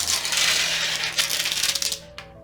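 Plastic wrapping is peeled off a statue screen, giving a short burst of crinkly rustling and small clicking rattles that thin out and stop, with no one talking.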